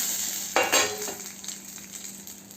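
Dried red chillies frying in a little oil in a pan, a steady close sizzle with a brief sharp stir or clink near the start before settling into a constant hiss.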